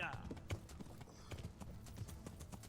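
Horse hooves clip-clop in a steady trotting rhythm while riding in the medieval video game Kingdom Come Deliverance, quiet and close, alone with no talk.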